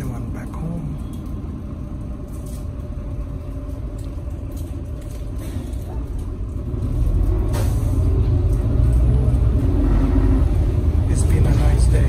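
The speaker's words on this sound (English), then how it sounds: "taking bus 171 back home" Inside city bus 171 near Versailles, a low engine rumble with faint hissing and clatter swells noticeably about halfway through, staying steady and close.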